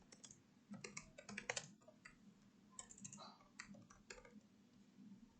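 A company name being typed on a computer keyboard into an online import export code registration form: quick, irregular bursts of close, quiet key clicks separated by short pauses.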